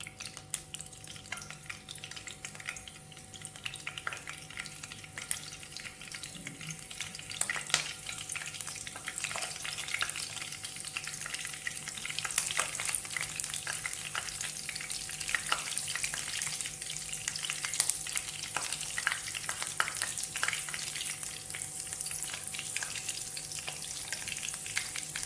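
Potato kebabs shallow-fry in oil with a steady, quiet sizzle and occasional faint crackles and spits, continuing evenly for the whole stretch with no voices.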